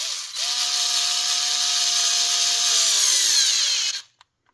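A Ryobi multi-head cordless screwdriver drives a screw into a pre-drilled hole in wood, its motor whining steadily for nearly four seconds as the pitch sags under load, then cutting off abruptly with a small click.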